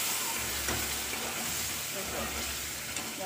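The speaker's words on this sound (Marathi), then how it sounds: "आपण याच्यामध्ये आता हे जे आहे दूध उकळलेलं ते अलगद ॲड करणार आहोत" Boiled milk poured into roasted semolina in a pan sets off a soft, continuous sizzling hiss with faint crackles, steady and low in level.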